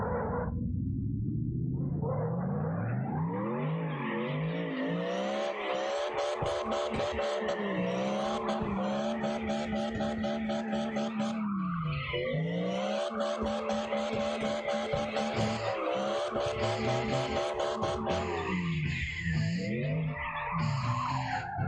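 A car drifts in CarX Drift Racing Online, its tires squealing loudly and almost without a break, the pitch sweeping up and down as the engine revs behind it, with one short dip partway through.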